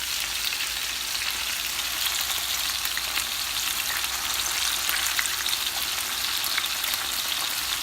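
Plantains frying in a pan send up a steady, dense crackling sizzle of hot oil, loud and close, continuous for the whole stretch with no talking.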